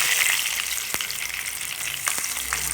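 Spices such as cinnamon and cardamom frying in hot oil, giving a loud continuous crackling sizzle with a couple of sharper pops, close and steady throughout.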